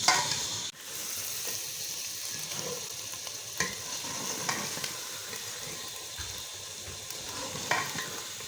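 Dal (lonak daal) cooks in a pan with a continuous soft sizzle and bubbling, plus occasional stirring knocks and scrapes, fairly close and without talk.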